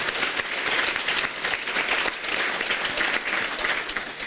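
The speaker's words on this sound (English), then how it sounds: "Let's give them another round of applause." Audience at a farmer-neighbor dinner breaks into another round of applause, a dense, even clatter of many hands clapping that stays steady for the whole few seconds.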